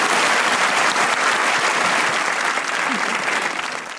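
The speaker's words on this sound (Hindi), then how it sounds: "तो मुझे लड़कों के लिए वैसे तालियां" A studio audience breaks into loud, thick applause that stays full for a few seconds before easing off slightly toward the end.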